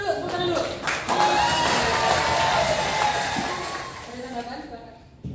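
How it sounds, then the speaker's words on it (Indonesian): An audience at an Indonesian crypto debate bursts into a dense wash of clapping that swells, holds for a few seconds and tapers off, mixed with crowd noise and a voice over the top. "Tepuk tangan dulu."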